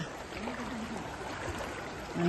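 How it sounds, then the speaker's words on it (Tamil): Fast floodwater after heavy rain rushes in a steady, dense wash of noise, close and continuous, without a break or any clear voices. "தண்ணி மிகவும் வேகமாக வந்து கொண்டிருக்கிறது"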